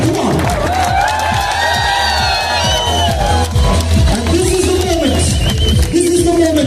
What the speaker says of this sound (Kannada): ಈ ಅದ್ಭುತವಾದ ಫ್ರೇಮ್ಗೆ ಒಂದು ದೊಡ್ಡ ಚಪ್ಪಾಳೆ ಬರಲಿ, ಒಂದು ಚೇರ್ ಬರಲಿ ನಿಮ್ ಕಡೆಯಿಂದ